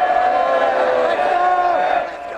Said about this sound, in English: the crazies, as they're called, cheer and chant for their champs